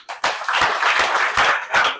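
Students clapping together at a school gathering at Collège Saint Augustin in Parakou, a loud, dense burst of applause that swells and dips briefly before rising again, with no voices standing out.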